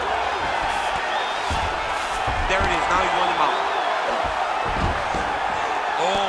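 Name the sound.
crowd cheering at MMA fight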